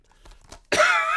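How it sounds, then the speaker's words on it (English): One sharp, close cough bursts out abruptly after a short stretch of faint, quiet sounds, then holds briefly as a loud, raspy exhalation. "I have a cough for like a month afterwards"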